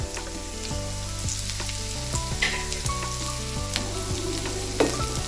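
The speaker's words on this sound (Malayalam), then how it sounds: "ഇനി നമുക്ക് ഈ നുറുക്കി വെച്ചേക്കണതൊക്കെ ഇട്ട് കൊടുത്തിട്ട് ഒന്ന് വഴറ്റിയെടുക്കാം" Steady sizzling of chopped ingredients sautéing in hot ghee for tomato coconut chutney, with occasional stirring scrapes and a tonal musical bed underneath; no voices.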